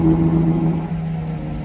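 A wrapped McLaren 720S Mansory sports car engine idles with a steady, loud low rumble, holding a strong tone before easing slightly, with no talking.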